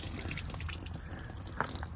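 Water drips and trickles in a small, close, wet patter with scattered brief splashes and one sharper drop near the end, no voices.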